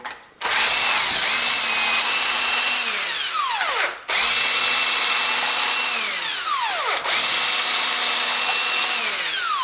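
A power tool whirs loudly in three long bursts while loosening the cylinder head bolts on a Ford Duratec engine, each run spinning down with a falling whine before the next begins.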